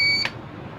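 A UPS unit's buzzer, on a unit under repair and running from a 12-volt supply, gives a single high-pitched beep that cuts off abruptly, leaving a low background hum.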